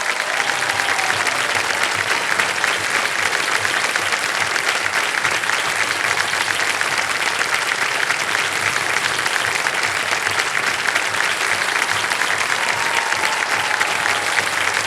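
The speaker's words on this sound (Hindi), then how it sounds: "तालियों के साथ अभिनंदन किया जाए श्री हर्षवर्धन नवाठे जी का" Sustained, dense applause from a studio audience on a televised quiz show greets a contestant, steady and loud for the whole stretch with no break.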